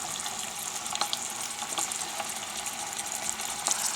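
Salmon and other fish fry in a pan with a steady, soft sizzle and occasional crackles and pops, heard alone at moderate distance.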